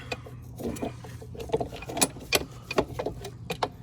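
Metallic clicking and ratcheting as a wrench works loose the oil drain plug on a hot 50cc ATV engine, irregular sharp taps and scrapes over a steady low hum, close by.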